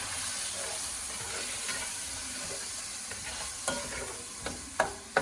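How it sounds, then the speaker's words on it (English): Vegetables and black pepper sautéing in a pot for Jamaican callaloo, a steady close sizzle and hiss that holds evenly, with a few sharp utensil scrapes and taps near the end and no talking. "Continue to saute there."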